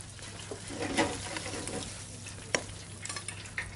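Oysters dropped into a hot pan set up a steady frying sizzle with some stirring clatter, a sharp knock near the middle and a few small clicks after it, all close and moderately loud, with no one speaking.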